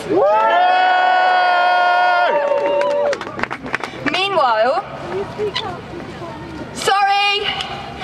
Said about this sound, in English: can I just have a cheer of love and solidarity for the Tarsands blockaders in Texas?